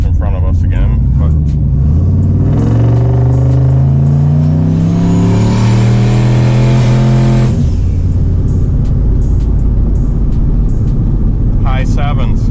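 A turbocharged LS-powered GMC Sierra pickup truck with a stock ECM accelerating on the road, its engine note rising steadily in pitch as it pulls, loud and close, then easing off into a steady cruising rumble.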